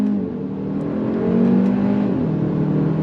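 A 2024 Hyundai Elantra N-Line pulls away hard from a standstill. The engine note rises steadily and loud, then dips briefly at a gear change before building again.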